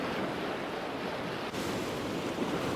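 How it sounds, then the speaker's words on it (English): Sea waves wash onto a rough ground fishing shore, a continuous loud roar of surf mixed with wind buffeting the microphone, with no voices. "Waves are starting to push up a little bit, but we're all right."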